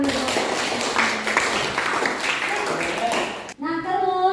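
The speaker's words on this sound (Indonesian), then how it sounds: "tepuk tangan dulu" Students in a mathematics class on geometric sequences clap together in a steady, moderately loud patter that stops abruptly, after which a voice begins speaking.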